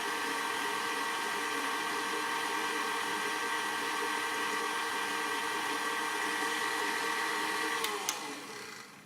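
A stand mixer runs at medium speed, kneading bread dough with flour, a steady close whirring motor drone that holds for most of the stretch before cutting off near the end.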